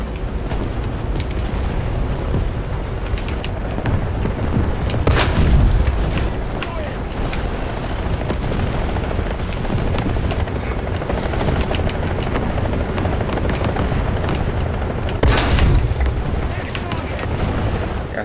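A Leopard 2K tank in War Thunder fires its main gun twice, loud thumping blasts several seconds apart, over a constant rumbling engine drone, with a voice talking underneath.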